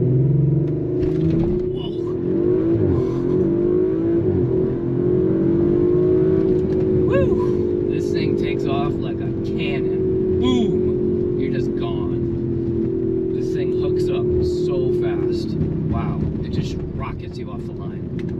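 A 2019 Audi RS5 Sportback launching hard from a standstill in sport mode with traction control off, its engine note climbing in a loud, sustained rising drone close by, with a person speaking over it.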